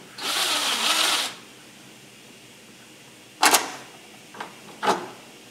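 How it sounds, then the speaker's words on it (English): Power drill boring holes in a metal part for a Super 7 Locost kit car build, a short whining burst of drilling followed after a pause by a few brief sharp mechanical clicks and taps. "And drilling."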